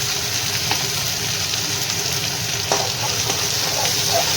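Cumin and ginger paste fry beside vegetables in a pan, giving a steady close sizzle with a few scrapes and stirs and no voice over it.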